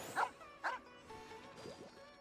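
Two quick dog barks close together in Genshin Impact, then softer whimpering yelps, all fairly faint over quiet game ambience.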